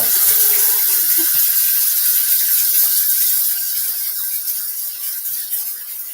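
Hands being washed under a running tap, a steady hissing stream of water with small splashes and clicks, fairly close and fading slightly toward the end.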